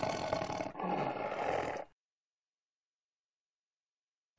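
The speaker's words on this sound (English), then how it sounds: "Tiger." Tiger letting out a rough, growling roar in two surges, close and loud, breaking off abruptly into silence.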